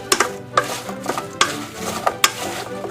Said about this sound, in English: I'm going to coat the lemon juice to the apples.